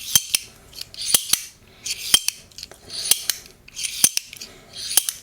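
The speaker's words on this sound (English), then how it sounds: "allowing the blade to slide open and to slide close." EDC folding knife with its blade sliding open and shut under gravity, giving sharp metallic clicks and scraping slides in a steady repeating rhythm, close and crisp with no talking.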